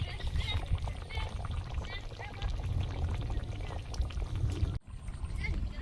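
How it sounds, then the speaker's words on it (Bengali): Fish curry (dahi katla with crab, green chillies) bubbling in a pot outdoors, a steady close simmering and popping texture with low rumble, briefly cut off near the end before resuming. "তরকারিটা ফুটছে।"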